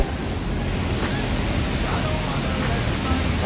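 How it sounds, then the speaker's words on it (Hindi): Jang waterfall in Arunachal Pradesh, near Tawang, pours as a loud, steady roaring wash of falling water that fills the space without a break. "ये देखिए आप जंग वाटरफॉल"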